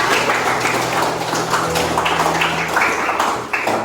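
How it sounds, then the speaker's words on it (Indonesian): Students clapping in an Indonesian classroom after their presentations, a steady, dense patter of many hands held close and fairly loud throughout, with no talking over it. "Tepuk tangan untuk kita semua."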